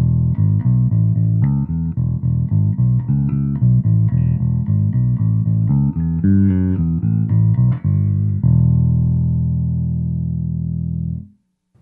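Electric bass played through the 60s vintage B-Man amp model on a Roland Cube 100-watt bass combo: a run of plucked notes in a steady groove, ending on a long sustained note that rings out and cuts off, alone with no talk.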